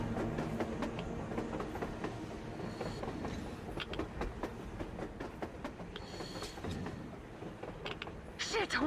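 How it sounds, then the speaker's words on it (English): On the surface in the Metro Exodus video game, a train rolls by with clickety-clack wheel beats and creaking metal over a constant rumble, fairly close, with a voice faintly present near the end. "A train! A damn train on the surface!"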